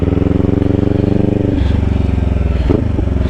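A motorcycle engine runs steadily at close range, its pitch dipping once as the rider rolls off the throttle and clutches for a shift into second, then picking back up as the throttle rolls back on.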